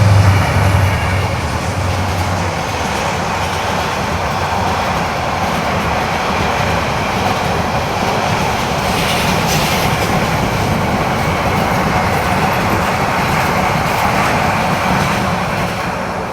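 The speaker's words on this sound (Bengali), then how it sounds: "এই ট্রেনটার সাউন্ডের কারণে কিন্তু আমরা কথা বলতে পারি নাই" An intercity train rumbles past close by at a railway station with a loud, sustained roar and rhythmic clatter of wheels on rails, lasting throughout.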